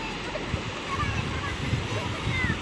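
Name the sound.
ocean waves breaking on a beach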